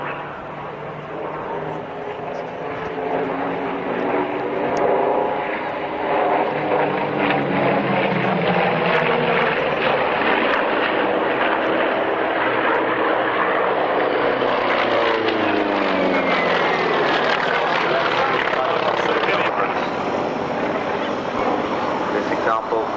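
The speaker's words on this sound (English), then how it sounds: "One of the boldest designs in the history of combat aircraft." A propeller combat aircraft flies past at the Duxford airshow, its loud engine roar and droning propeller rising and shifting in pitch as it passes, with a voice talking over it.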